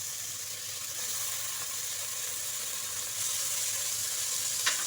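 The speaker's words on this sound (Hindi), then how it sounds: "अब हम इसमें गोश्त ऐड कर देंगे।" Beef added to a karahi pan with onions and chillies for beef karahi sizzles and fries in a steady, bright hiss. The sound is close and continuous, growing slightly louder partway through, with no talking.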